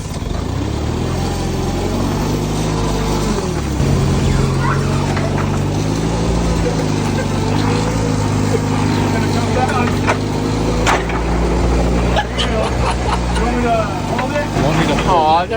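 An old, worn forklift runs and creeps along with a steady, rough engine drone close by, its low rumble shifting as it moves, while people talk over it.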